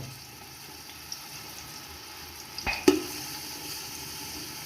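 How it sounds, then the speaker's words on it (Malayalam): Onions sauté in a pan for Andhra chicken biryani with a soft, steady sizzle. A short clatter of stirring comes near the end, fairly quiet throughout and with no voices. "സവോള ഇട്ട് കൊടുത്ത് നല്ലതുപോലെ ഒന്ന് ഇളക്കി കൊടുക്കാം."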